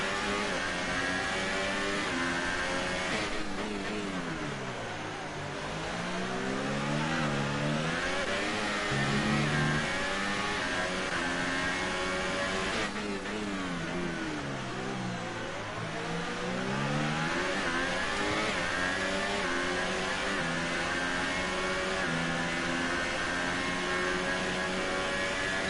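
Formula 2 race car engines in F1 2018 at Bahrain scream continuously, with pitch climbing through gear changes, dipping under braking and rising again, loud and sustained with no speech.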